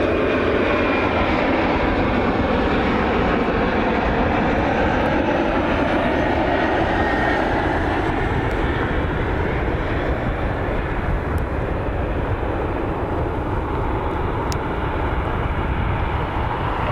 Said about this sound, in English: Here's the CRJ.